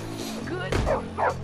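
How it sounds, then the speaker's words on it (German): A dog barks twice in the Canis Canem Edit video game, short yelping bursts over steady game music and ambience. "Oh, da haben wir schon wieder einen Hund."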